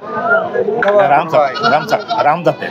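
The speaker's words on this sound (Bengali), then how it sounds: "পাশাপাশি দেখি এখানে বড় একটা খাসি দেখা যাচ্ছে" A large goat bleats in wavering, repeated cries at a busy livestock market, loud and close, mixed with surrounding voices.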